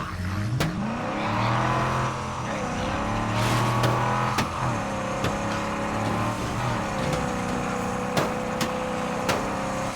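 A car in State of Decay 2 drives along with a steady engine drone that rises and falls through gear changes, punctuated by sharp clunks and knocks, moderately loud and continuous.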